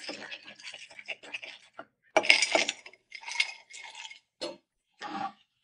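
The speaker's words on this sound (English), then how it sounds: "Put some ice cubes in there." Ice cubes clink and rattle as they drop into a glass for a Blackberry Crown Royal lemon mint mule, in several close bursts with short pauses between them.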